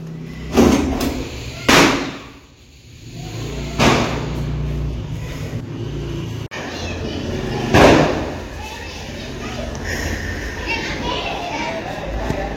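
Several loud firecracker bursts go off at irregular intervals, sharp and close, over a steady background of voices and outdoor noise, near cows and a frightened calf.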